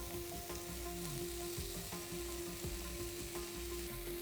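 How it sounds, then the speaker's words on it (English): Tofu added to sauteed onions, garlic and broccoli in a pan for Korean-style fried rice, a steady close sizzle throughout with occasional soft stirring knocks. "I'm adding it to the sauteed onions, garlic and broccoli."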